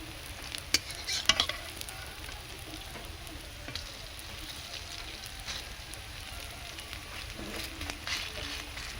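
Pumpkin flower fritters frying gently on low heat in a Bengali kitchen, a soft, steady sizzle with a few clinks and stirring scrapes near the start, no talk.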